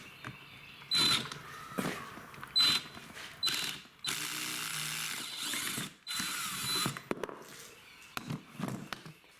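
Screwdriver working screws out of the control buttons on an Infiniti steering wheel, giving close, repeated ratcheting clicks in short bursts with brief pauses between turns and no talking.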